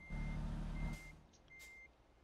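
Repeated electronic reversing beeps from a truck in Euro Truck Simulator 2, steady evenly spaced tones over a low engine rumble, with a brief burst of noise partway through.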